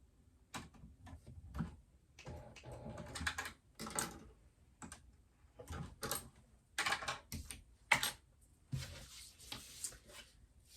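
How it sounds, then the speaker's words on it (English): A domestic sewing machine stitches through double-sided tape on a fabric purse strap, giving close, clattering bursts of rapid needle ticks separated by short pauses. "Really sewing over the double-sided tape, just to make sure"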